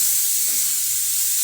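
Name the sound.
stirring carrot and cabbage sizzling in pan for manchurian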